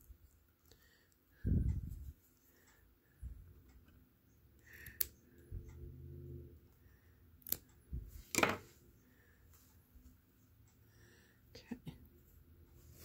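Scissors snipping paper while making hinges for an open-spine journal: a few quiet, separate cuts and crisp clicks spread through a hushed workspace, with soft murmuring and rustling in between.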